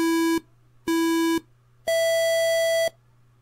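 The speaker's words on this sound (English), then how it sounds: "Is it me or does it seem like it's beeping?" DIY ninja timer emitting electronic beeps: two short identical tones followed by one longer, higher tone, clean and evenly spaced over a faint steady hum, with no speech.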